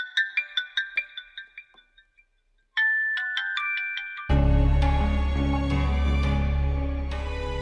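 A phone ringtone plays in a repeating melodic pattern of bright electronic tones, pauses briefly, rings again, then is swamped by a sudden loud burst of dense, full-band sound that continues to the end.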